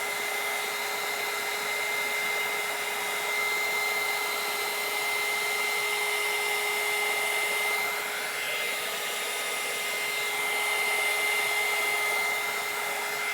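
A heat gun blows hot air onto melting crayon in a steady, loud, unbroken whoosh with a faint high whine running through it, alone and without talk.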